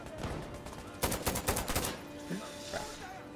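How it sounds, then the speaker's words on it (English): Gunfire rings out in Insurgency: Sandstorm video game, a rapid burst of several sharp shots close by lasting about a second, followed by quieter scattered noise and game sounds. "Gunshot!"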